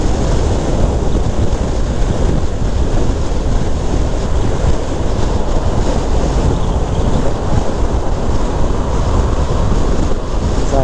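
Riding a Honda CBR650F at speed produces a loud, constant roar of wind buffeting with no clear engine note or pauses, unbroken for the whole stretch.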